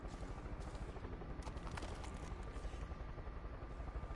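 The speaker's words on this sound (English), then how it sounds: "I have located a helicopter" Helicopter in the video game Far Cry 5, a faint, steady rotor chop throbbing low and distant under quiet game ambience.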